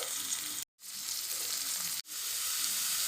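Cumin frying in hot mustard oil gives a steady, bright crackling sizzle up close, broken by two brief total cutouts before the hiss resumes at full strength.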